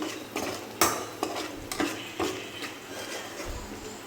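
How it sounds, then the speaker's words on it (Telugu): Egg fried rice being stirred and fried in a pan on a home stove, with several distinct spatula scrapes and knocks against the pan over a continuous sizzle, close by. "డాడీ మన కోసం ఎగ్ ఫ్రైడ్ రైస్ చేస్తున్నాడు"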